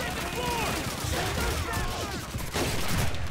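Enemy gunfire in Call of Duty 2 during a D-Day mission: dense overlapping rifle and machine-gun volleys crackle nonstop at close range, with voices mixed in among the shots.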